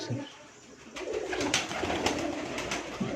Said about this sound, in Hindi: ये भी गोल्डन कबूतर है पर बहुत ही आउट क्लास रिजल्टेड कबूतर है जनाब